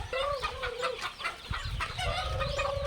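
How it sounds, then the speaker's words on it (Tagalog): Chickens cluck and call repeatedly at close range on a farm, with a rooster-like crowing tone rising over a busy, continuous flock bed; no talking. "Ang dami manok ni Eric guys"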